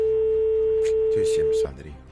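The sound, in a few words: telephone ringing tone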